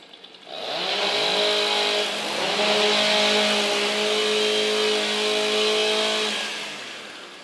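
A STIHL chainsaw warming up at a timbersports competition, revving loudly and close with a steady high engine whine that dips briefly and rises again before trailing off.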